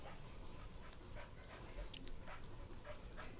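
A dog pants quietly and steadily, with soft rhythmic breaths and faint rustles, close by and otherwise without talk.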